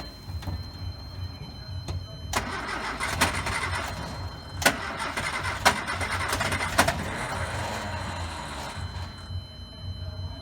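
A 1974 MG Midget being started: a starter motor cranks in short bursts, then the engine catches into a rough idle with a few sharp revs, heard close by.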